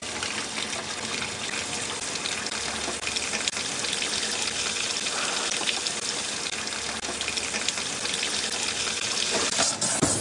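A tap in a shale gas area runs steadily, a loud continuous gush of water splashing and hissing close by for the full length, with no talk over it.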